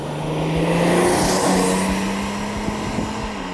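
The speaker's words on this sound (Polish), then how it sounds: "Teraz to jedzie, ale dopiero po mocnym wciśnięciu gazu." A Renault Laguna Coupé engine pulls hard under heavy throttle, a steady close drone that climbs gently in pitch over a few seconds, with no talking.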